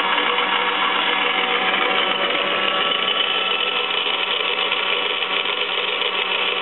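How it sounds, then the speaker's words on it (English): A Taig lathe's independent power feed motor runs at about 15.5 volts, giving a steady, continuous whine and hum that holds an even level with no talk over it. "You can hear the motor running there."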